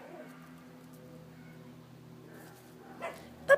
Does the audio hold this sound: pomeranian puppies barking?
yes